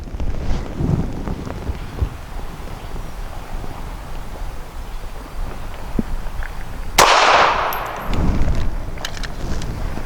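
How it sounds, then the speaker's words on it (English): A single sharp, loud shot from a Smith & Wesson Performance Center Shield EZ .380 pistol cracks out near the end, its echo decaying over a second amid wind noise, with a faint pop from another shot earlier. "So let's fire that third round."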